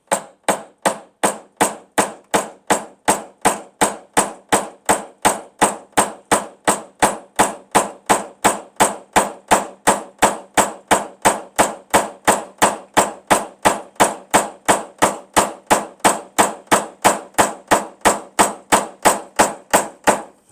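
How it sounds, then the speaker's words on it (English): A hammer strikes a knockdown tool on a car body dent in a fast, steady series of sharp metallic taps, dozens of evenly spaced hits, close and loud with nothing else heard. "I'm going to use my hammer to hammer it down"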